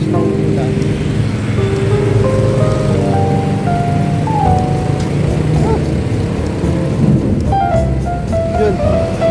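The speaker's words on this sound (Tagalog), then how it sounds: "lakas ng kulog." Deep rumbling thunder in Legazpi, Albay, rolling continuously beneath a steady wash of rain or wind, loud and low, with faint tonal sounds drifting over it.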